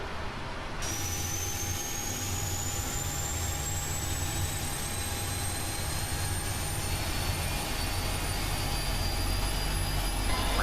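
Airliner jet engine spooling up during start before pushback, a steady loud roar with a rising high whine that climbs throughout, heard from inside the aircraft with no talking.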